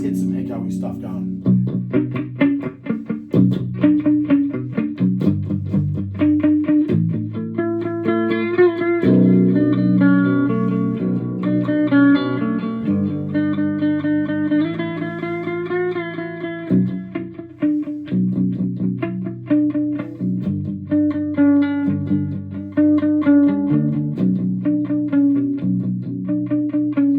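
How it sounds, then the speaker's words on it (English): Electric guitar through a Behringer V-Tone amp head with echo effect switched in from an FCB1010 foot controller, playing sustained chords and melodic lines with trailing repeats, steady and fairly loud throughout. "Let's get some echoey stuff going."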